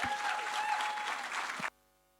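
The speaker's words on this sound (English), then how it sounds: "I'd like you all to please give us a big round of applause for our first kai kōrero hitting the stage" Audience applause at a Real Talk kōrero evening in Hawke's Bay as a speaker takes the stage: dense, steady clapping from a crowd for almost two seconds, then cutting off abruptly to near silence.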